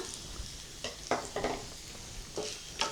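Raisins and roasted gram being dry-roasted in a pan for aval mixture, with a light sizzle under several distinct scrapes and stirs of a spatula against the pan, close by.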